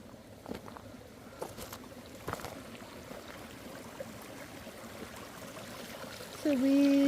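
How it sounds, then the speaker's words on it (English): A wee little stream trickles quietly outdoors, a soft, steady babble heard from nearby, with a brief tonal sound near the end. "It's a wee little stream."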